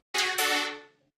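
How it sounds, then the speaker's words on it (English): A single short synthesizer note played through a low-pass filter in a beat-making session starts bright, then turns duller as it fades out over about a second. "If we use a filter, we are kind of using the low pass or high cut filter"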